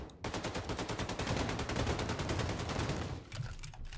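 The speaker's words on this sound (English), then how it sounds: "See just how much damage our friggin' assault rifle is able to provide to these giant mechanical mess men" A long, rapid burst of assault rifle fire in the Wolfenstein 2: The New Colossus video game against giant mechanical enemies, evenly spaced shots rattling loud and close for about three seconds before cutting off, with no voices.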